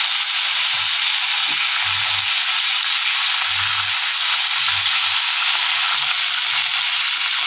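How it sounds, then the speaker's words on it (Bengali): Vegetables fry gently in oil in a kadai for a bhetki/rohu fish dish, giving a loud continuous sizzling hiss with faint low knocks and scrapes of stirring underneath. "এখন আমি সবজিটা হালকা পাতলা করে একটু ভেজে নেব আস্তে আস্তে"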